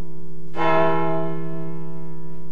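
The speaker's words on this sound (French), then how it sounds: "Il avait appris à sonner les cloches pour annoncer les messes, les mariages, les baptêmes et les enterrements." A single loud church bell in a bell tower strikes once after a short pause, then rings on with a rich, sustained hum that slowly fades.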